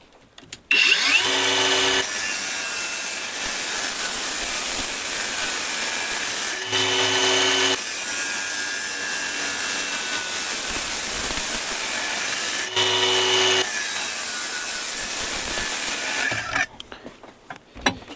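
A Procraft Industrial AG125C cordless angle grinder cutting, a loud, steady high-pitched whine with brief dips where the disc load changes, running alone for about fifteen seconds before winding down.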